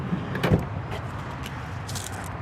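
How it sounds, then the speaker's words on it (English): The side door of a 2026 Winnebago Revel Sport 44 C camper van opens with a single close mechanical clunk and latch rattle, followed by quieter handling sounds outdoors. "We'll just go ahead and open up this door"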